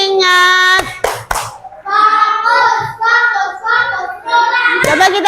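Fourth-grade pupils play a classroom clapping game, with several quick bursts of claps before and after loud chanted responses. The children's voices ring out in unison between the crisp hand claps.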